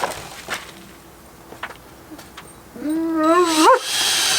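A few faint clicks and rustles, then a rising, wavering dog whine swells into a short yelping bark near the end.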